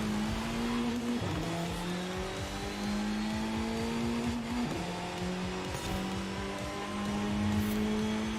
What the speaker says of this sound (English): You probably heard the my wheels skidding on the track.